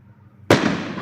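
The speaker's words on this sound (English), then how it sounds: "Fireworks, fireworks, fireworks. How cool are fireworks?" A single loud firework bursts with a sharp crack, and a broad crackling decay trails off after it, following near silence.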